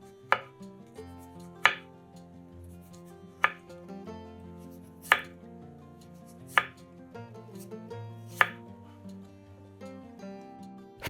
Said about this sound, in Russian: Редис моем и нарезаем тонкими кружочками.